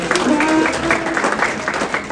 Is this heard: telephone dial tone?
no